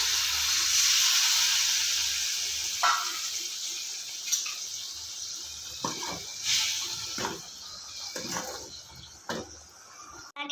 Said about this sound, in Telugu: వాటర్ యాడ్ చేస్తున్నాం